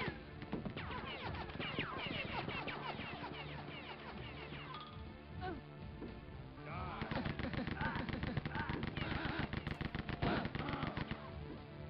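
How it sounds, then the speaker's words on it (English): A turret in the shooter Rise of the Triad: Dark War fires a relentless, fast stream of shots, loud and close, layered with other in-game effects throughout. "Oh, that's a turret."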